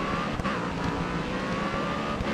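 Race car engines in GRID Autosport roar steadily and loud throughout, a dense sustained drone with faint tire noise and no talk.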